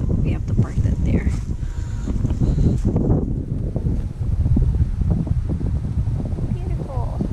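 Steady wind blows across a campsite where a trailer is parked, a broad rushing roar buffeting the microphone throughout, with people talking over it.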